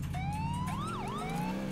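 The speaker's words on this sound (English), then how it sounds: "I don't like the stock sirens on this game," Stock police car siren from the video game GTA IV, a steady wailing tone sweeping up and down over a low engine hum, fairly loud and alone with no talking.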